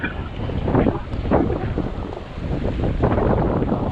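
Strong wind buffets the microphone at a small seaside marina and beach at Agios Isidoros, a continuous heavy roar with surging gusts and no voices.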